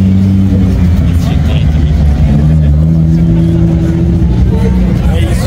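Toyota Supra MK4 with a 2JZ engine drifting at night on a city avenue, its exhaust droning loud and close in a steady, throaty roar with shifting revs and no pauses.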